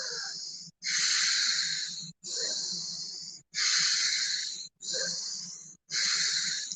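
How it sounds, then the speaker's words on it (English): Six slow, deep breaths in a relaxation breathwork exercise. Each is a long, airy, hissing pull in or a softer release, separated by brief pauses and heard close and alone. "And then the deep relaxing breathing is like this."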